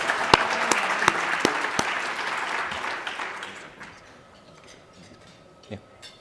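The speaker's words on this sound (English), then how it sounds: "Let's give another round of applause to our distinguished awardees." An audience at an awards luncheon of a health leadership summit gives a dense round of applause to the awardees; the clapping fills the first few seconds with a few sharp claps, then thins and fades into quiet room tone.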